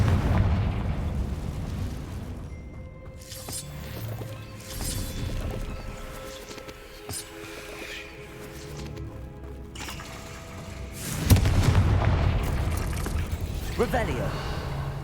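Confringo blasting spell explosions in Hogwarts Legacy, loud bursting booms at the start and a heavier blast near the end, set against mechanical game clatter and rumble.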